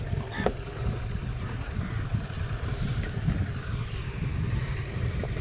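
A boat, apparently a fishing boat, cruises along the shore with a continuous low engine and water rumble, steady and fairly close, with no talking.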